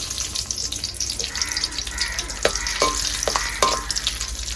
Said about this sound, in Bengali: আচার বানানোর জন্য কড়াই দিয়েছি সরিষার তেল, গরম হয়ে গেছে। দিয়েছি কয়েকটা গোটা কাঁচামরিচ আর তেজপাতা।